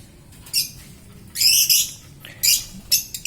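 A pet lovebird, said to have a cold, gives a handful of short, sharp chirps and squawky bursts close by, spaced irregularly over a quiet room.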